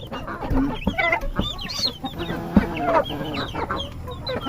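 Pet turkeys, a brooding hen among them, call and cluck close by in a busy overlapping series of short squawks and chirps, with no talking.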